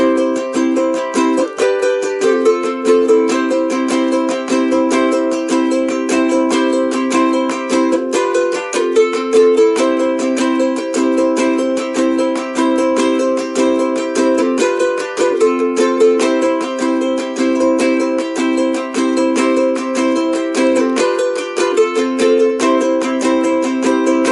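Steady acoustic guitar strumming through a repeating chord pattern from a song, even and continuous at a moderate pace, played up close with no voices.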